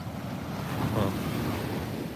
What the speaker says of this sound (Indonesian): Tapi sekarang udah langsung di bibir pantainya, di ombaknya mecah di sini.